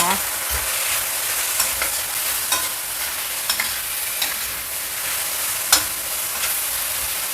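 Spices and Indian curry powder stir-fry in a pan, a continuous hiss of sizzling broken by scrapes and light knocks of the spatula, close and steady with no talking.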